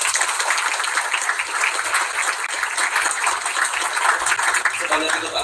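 Audience at an outdoor presidential campaign event in Bandung breaks into sustained applause, a dense wash of clapping filling the whole stretch with crowd noise.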